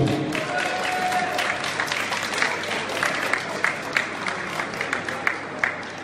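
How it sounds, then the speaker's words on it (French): A crowd at an agricultural fair in Beaumont-de-Lomagne claps for a contest candidate, a dense sustained round of applause with sharper individual claps standing out near the end. "Je vous laisse applaudir."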